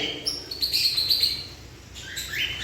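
Pet birds chirp in quick, bright, high tweets that come in short clusters across the clip, close and fairly clear over a quiet, low background hum.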